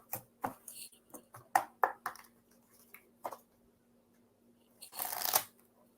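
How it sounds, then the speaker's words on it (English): A deck of tarot cards is shuffled in short riffling bursts of crisp slapping and rustling, close and fairly quiet, ending in a longer riffle. "I'm just shuffling."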